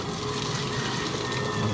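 A water pump runs with a steady rushing, gushing flow of water and a constant mechanical hum, close by and without talk.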